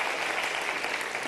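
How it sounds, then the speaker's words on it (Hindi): Audience applause at a medical-wing lecture on positive thinking, steady dense clapping filling the whole short stretch at a moderate, even level with no voices on top. "आप तालियां बजाइए।"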